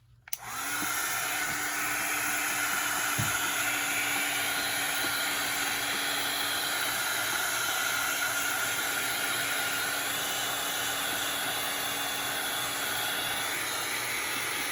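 A hair dryer blows steadily on a craft project, starting abruptly and then holding a loud, even, close whoosh with no break and no talking.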